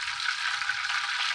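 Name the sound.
frying tempeh in a pan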